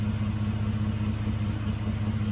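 A 2009 Dodge Nitro engine runs at a steady idle, a continuous low hum with an even drone close by and no voices.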